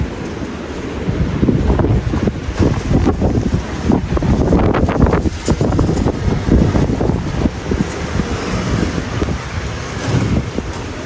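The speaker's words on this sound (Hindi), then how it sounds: "इतनी कोई तेज़ हवा चल रही थी कि कपड़े तारों पर ना झूले खा रहे थे" Strong wind gusts outdoors, strong enough to swing laundry hanging on clotheslines, roaring as a loud, continuous rush with buffeting microphone noise throughout.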